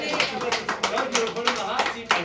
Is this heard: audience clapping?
yes